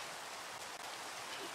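Rain pours in the Minecraft video game as an unbroken, even wash of hiss that fills the moment, with no talking on top.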